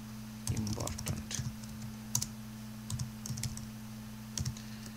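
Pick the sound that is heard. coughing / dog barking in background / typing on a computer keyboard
typing on a computer keyboard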